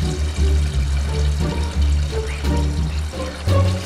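Water runs steadily from a tap, a continuous splashing flow with faint clinks in the background.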